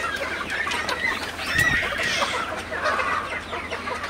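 Sonali and broiler chickens clucking at feeding time on a farm during hot weather, several overlapping clucks and short calls close by against a noisy background.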